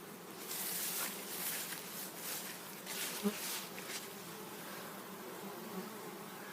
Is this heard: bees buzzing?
yes